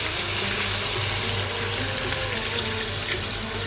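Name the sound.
pouring chicken stock into lamb stew pot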